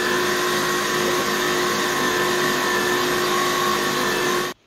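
A stand mixer with a whisk attachment beats butter into Swiss meringue buttercream, giving a steady loud motor whir with constant tonal hum that cuts off abruptly at the end.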